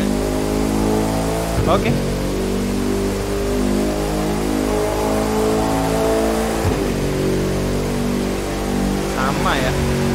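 Bugatti Chiron engine in The Crew 2 droning and revving at high speed, a steady loud engine tone with a couple of rising rev sweeps, while someone speaks briefly over it.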